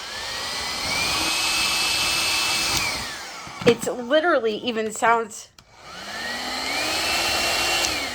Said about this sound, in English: So this is the same exact dryer.